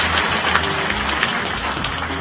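A large audience at a Police Veterans Association anniversary ceremony in the Sejong Center hall applauds after a congratulatory speech by a former Supreme Court justice, a dense, continuous wash of clapping filling the room.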